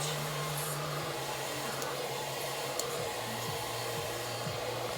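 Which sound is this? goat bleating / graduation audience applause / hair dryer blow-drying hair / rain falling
hair dryer blow-drying hair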